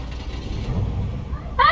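A car engine turns over and rumbles low in a video game, steady and moderately loud beneath ongoing talk, with a brighter tonal burst near the end.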